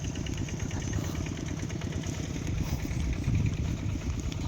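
A tractor engine runs steadily while plowing a rice field, giving a loud, continuous low rumble with a mechanical chug that never lets up and no voices over it.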